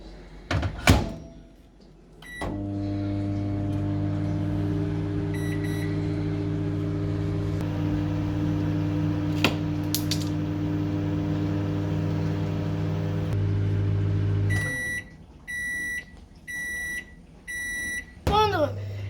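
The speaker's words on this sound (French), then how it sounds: "Je vais aller le mettre dans le micro-ondes 1 minute 30." A microwave oven melts chocolate and butter for a chocolate fondant cake, with a steady droning hum that runs for about twelve seconds after a door thunk, then stops and a run of short beeps sounds close by.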